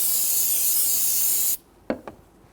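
Solvent sprays in a loud, steady hiss for about a second and a half onto a brake fluid reservoir of a 2007-2014 Cadillac Escalade, then stops, followed by two short rubbing swipes of a rag.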